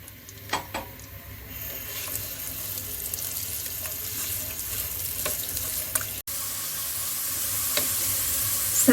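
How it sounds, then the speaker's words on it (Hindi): Onions fry in oil over high heat with a steady, hissing sizzle. A few louder clinks of stirring come through, and the frying grows a little brighter near the end. "तेज आंच पर प्याज को फ्राई करेंगे।"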